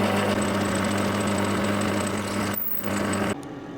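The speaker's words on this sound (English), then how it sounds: "First, a little touch with the centre drill." A metal lathe turning with a centre drill touched into the workpiece, giving a steady, loud motor hum and whine that runs evenly, dipping briefly near the end.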